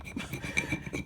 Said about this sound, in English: we're going to need to burnish again so that we can transfer the vinyl to the plate